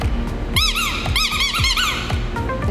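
A squeaky toy is squeezed over and over to catch a dog's attention, giving loud, close, high squeaks in two quick bursts with soft thumps between them.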